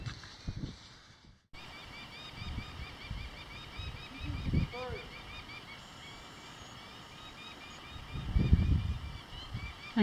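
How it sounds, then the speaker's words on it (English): A bird near its nest by a historic mine portal gives harsh, honking calls in a few scattered bursts over a steady outdoor hiss, moderately close, with a brief dropout early on. "I don't know if you can hear the bird"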